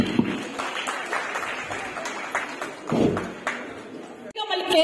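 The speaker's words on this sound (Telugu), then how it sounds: "ఎవ్రీవన్ క్లాప్స్ అండి" An audience at a stage event claps to welcome a guest, a moderate patter of applause with a few distinct close claps, partly under an announcer's voice and fading near the end.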